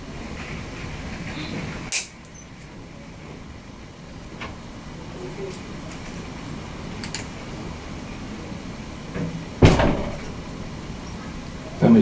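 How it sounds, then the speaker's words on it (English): A door is shut in another room of a foot-care clinic, a sharp muffled thud against steady room noise, with a second similar knock several seconds later. "somebody shut the door."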